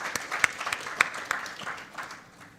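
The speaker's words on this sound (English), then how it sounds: "a huge round of applause for Mr. Mahalingam." Guests at a book launch give a round of applause, scattered sharp claps from a modest crowd that start strong and then taper off.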